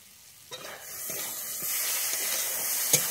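Masala with kasuri methi sizzles in a pan as it is stirred, a steady hiss with faint scraping strokes that grows slightly louder partway through.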